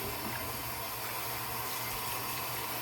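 Water runs steadily at a low level while a tuxedo cat named Oreo is bathed, giving a faint, even hiss with no talk.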